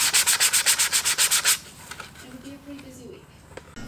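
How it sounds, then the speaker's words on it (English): Sanding of windshield wipers: about a dozen quick, rhythmic abrasive back-and-forth strokes, close and loud for the first second and a half, then quieter handling noises. "I sanded down the windshield wipers as well"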